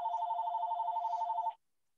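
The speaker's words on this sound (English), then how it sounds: "Ignore that phone ringing in the background." A telephone rings in the background with a steady, trilling electronic bell tone, one continuous ring at moderate level that stops abruptly, followed by near silence.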